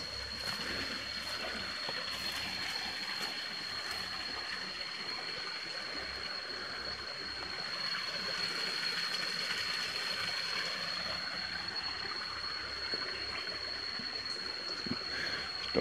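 A small waterfall feeding a trickling brook gives a faint, steady rush and patter of water, soft and somewhat distant, running evenly throughout.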